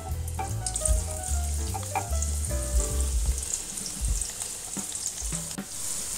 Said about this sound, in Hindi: प्याज को हम अच्छी तरह से ब्राउन करेंगे।